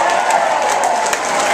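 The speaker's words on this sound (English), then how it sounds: "Let's give them a round of applause." Applause fills a union hall, the Letter Carriers Hall in Tampa, where a crowd gathered for Al Gore claps steadily and fairly loudly, with a few cheers audible in the dense patter.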